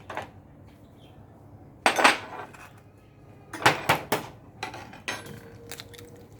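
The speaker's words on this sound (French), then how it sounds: "Je vais commencer par mettre le sucre dans mon saladier, casser dessus les œufs." Three eggs cracked against a mixing bowl onto sugar: a few sharp, close knocks and clinks spaced apart, with short crackly taps between them in a quiet kitchen.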